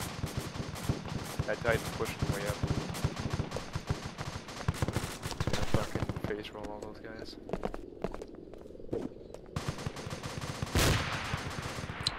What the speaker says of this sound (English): He's shooting straight through the fucking trees.